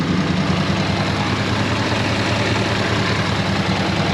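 A 93-year-old car's engine idling with the bay open, a steady low rumble with faint knocking, even and close throughout with no talking.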